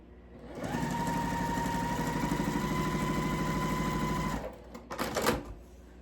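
A sewing machine stitches cotton quilt fabric placed right sides together. It hums in one steady, close, continuous run of about four seconds, then stops, and some handling noise follows.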